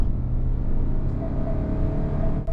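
A GAC GS3 gasoline compact SUV accelerates hard from about 70 in sport mode without downshifting, its engine a steady, low droning rumble heard from inside the cabin, fairly loud and unbroken.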